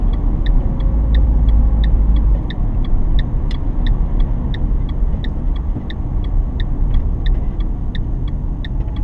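Car engine rumbling as the driver downshifts approaching a roundabout, steady low drone with a loud low surge early, while a turn-signal indicator ticks in an even, regular rhythm throughout.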